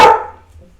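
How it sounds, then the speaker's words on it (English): A single sharp dog bark rings out close and loud, then quickly fades into quiet. "Excuse us, that's our dog, Philly."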